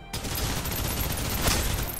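Rapid automatic gunfire from the video game Snobreak: Containment Zone, a sustained dense barrage of shots running the whole clip with a slightly louder burst near the end.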